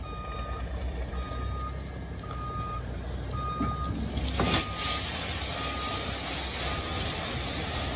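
A delivery truck reverses with a precise driver at the wheel, its backup beeper pulsing in a steady repeating rhythm over a low engine rumble, with a brief hiss of air brakes midway.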